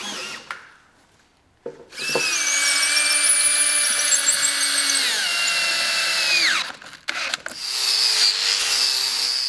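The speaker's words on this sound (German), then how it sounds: "2 Klötze, die Jörg Seibel nun an das untere Ende des Apothekerschrankes schraubt." Power drill driving screws to fix wooden blocks onto the base of a wooden apothecary cabinet: a sustained whining run with a falling pitch shift, then a short gap and a second burst, loud and close.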